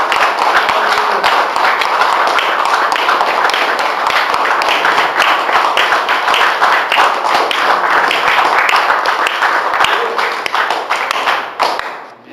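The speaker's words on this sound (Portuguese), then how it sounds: "Você pode dar um aplauso ao Senhor Jesus?" A church congregation applauds loudly and steadily, dense clapping filling the room for about twelve seconds before trailing off at the end.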